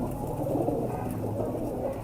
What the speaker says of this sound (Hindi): ये नर कबूतर है